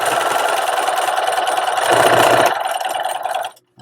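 Sewing machine zigzag stitching a seam on an invisible zipper project, a loud steady whirring motor hum with a rapid mechanical chatter, running continuously before stopping abruptly near the end.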